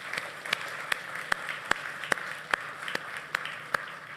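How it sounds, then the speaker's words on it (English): Slow, evenly spaced hand claps, about a dozen in a steady rhythm, crisp and fairly close. "Maybe a quick round of applause."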